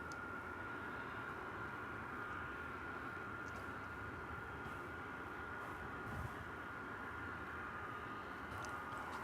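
A plane arrives on the runway at DFW Airport at night, its engine heard as a steady, distant roar with a constant whine, even and unbroken throughout.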